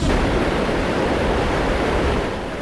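Strong storm waves crash on the shore of Ilocos Norte, a loud, continuous roar of surf and rushing water with no talking.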